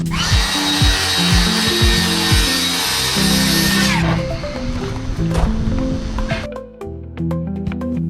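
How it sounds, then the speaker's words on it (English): A circular saw rips a sheet of plywood along a Kreg rip-cut guide, a loud steady whine for about four seconds that winds down, followed by rattling, handling clatter and a few sharp knocks. "I'm just about to use my Craig guide, rip cut, to help break down the sheet of plywood"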